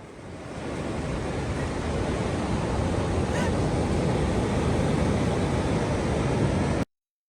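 Ocean surf washing steadily onto a beach, a broad continuous roar of breaking waves with some wind noise, loud and unbroken for most of the stretch before cutting off abruptly.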